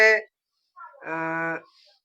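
A cow gives a short, close moo, preceded by a brief vocal sound.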